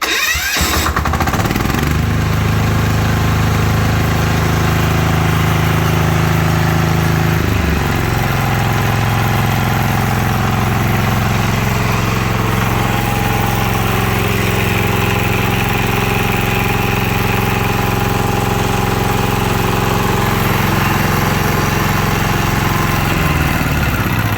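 A Weima WM18 single-cylinder diesel generator engine cranks and catches, then settles into a loud, steady idle that rumbles on without a break.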